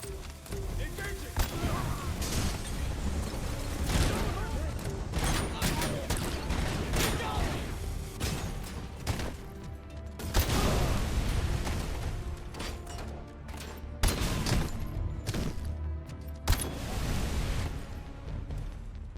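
Rapid bursts of gunfire from the Cobra Assault Cannon in the RoboCop: Rogue City Unfinished Business video game, loud repeated shots and explosive cracks spread across the clip, with someone talking over parts of the action.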